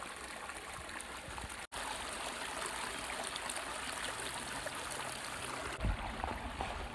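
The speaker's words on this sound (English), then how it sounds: "babbling brook here." A small babbling brook beside a hiking trail, its water running steadily and close by, a continuous broad rush and trickle that holds even in level throughout, with a brief dropout and one low thump near the end.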